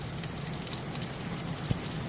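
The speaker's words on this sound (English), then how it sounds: "Yeah, it's raining a lot." Steady rain patters on an RV roof overhead, a soft continuous hiss with one brief louder tap.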